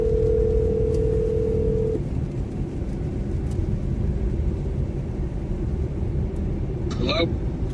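A steady telephone dial tone hums for about two seconds, then cuts off, leaving loud rumbling background noise from a storm-chasing vehicle, with a brief electronic chirp near the end.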